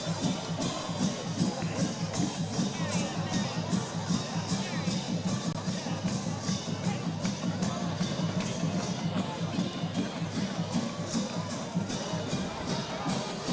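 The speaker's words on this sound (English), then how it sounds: "that turnover and touchdown has brought the crowd right back into it" A high school football crowd roars steadily after a touchdown at a Marana vs Mountain View game, a dense sustained cheer with rhythmic chanting or clapping pulses, crowd voices throughout.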